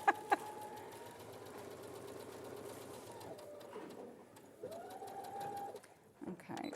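A sewing machine stitching fabric half-square triangles, its rapid mechanical whirr running in steady bursts with brief pauses, two sharp clicks at the start, and faint voices in the background.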